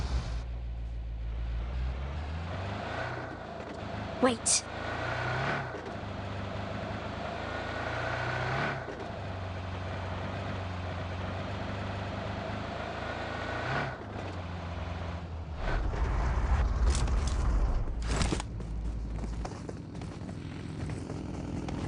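Car engine in the mobile battle game PUBG Mobile, a steady low rumble running throughout with brief sharp bursts near the start and a louder revving swell toward the end, with a short spoken word over it.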